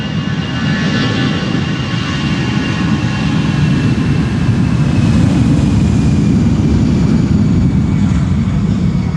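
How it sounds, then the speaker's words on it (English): Aer Lingus airliner departing Schiphol's Polderbaan runway for Dublin, a loud, near, continuous jet engine roar with whining tones that swells steadily across the pass, no speech present. "This is Aer Lingus going to Dublin, Ireland, presumably"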